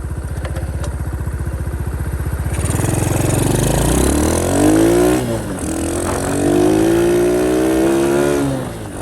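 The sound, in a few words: motorcycle engine and exhaust revving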